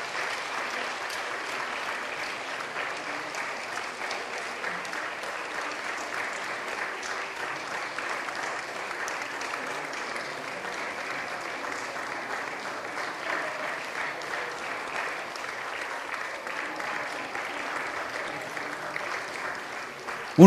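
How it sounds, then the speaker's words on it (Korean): Steady applause from a church congregation at an infant baptism service, sustained and even for the whole stretch, a broad wash of many hands clapping at moderate distance with no break. "박수로 격려해 주시기 바랍니다."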